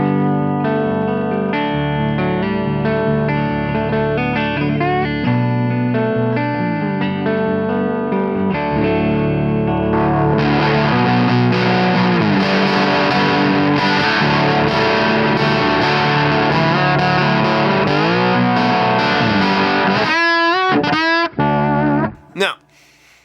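An electric guitar played through an amp set on the edge of breakup, with chords and riffs ringing out loud and slightly gritty, growing fuller and more driven midway before a few final plucked notes and quiet.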